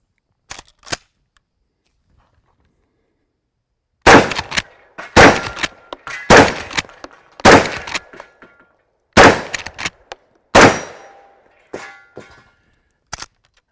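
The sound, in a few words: Henry lever action .410 shotgun shots hitting metal targets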